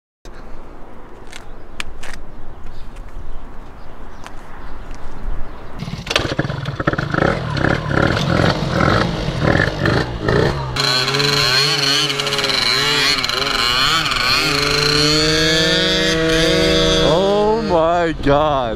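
Honda Elite scooters, one a water-cooled 120cc and the other an air-cooled 72cc, buzz and rev nearby, their engine notes rising and falling in loud, wavering bursts that grow busier midway, with people talking over them.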